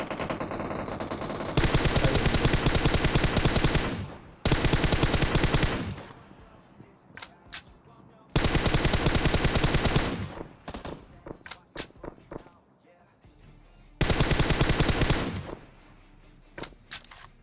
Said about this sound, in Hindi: जिस हिसाब से ये गोलीबारी चल रही है ना यहाँ पे